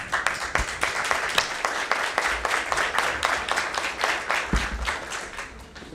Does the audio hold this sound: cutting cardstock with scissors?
no